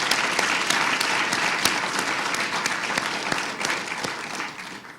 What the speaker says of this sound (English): I think we owe them all a round of applause.